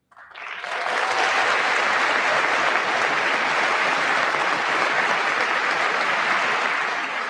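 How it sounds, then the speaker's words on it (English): Sustained applause fills the chamber at the 2026 State of the Union Address, a dense, loud wash of clapping that swells quickly and holds for several seconds. "half the place is clapping"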